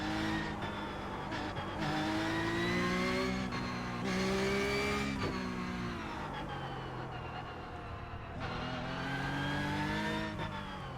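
Porsche 911 Cup 992.2 race car in the iRacing sim, its engine revving hard and continuously with rising pitch sweeps, sharp drops on gear changes and lifts, and brief tire squeal, loud and close throughout.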